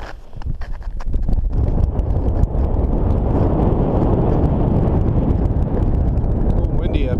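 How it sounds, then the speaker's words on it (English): Strong, steady wind on the summit of Mount Shasta roars and buffets the microphone, building in the first second and then blowing loud and constant throughout. "A little windy up here."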